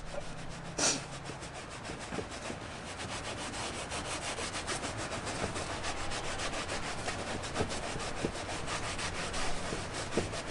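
Cleaner is rubbed into leather by hand during detailing. Close, steady back-and-forth scrubbing strokes continue throughout, with a soft rasping texture and no voices.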